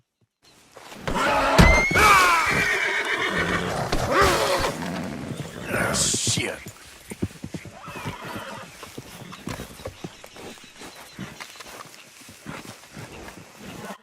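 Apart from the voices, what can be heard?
horse neighing and hooves in video game (Red Dead Redemption)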